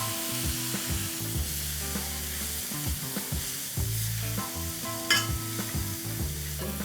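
Green chilies and chopped tomatoes sizzle in a frying masala while being mashed in the pan, a steady close crackling hiss with scraping and stirring bumps, under light background music.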